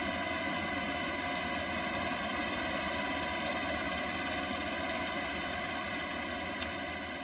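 A rescue helicopter during Hurricane Harvey near Houston produces a steady, droning rotor and engine noise, unbroken and moderately loud throughout, with no voices.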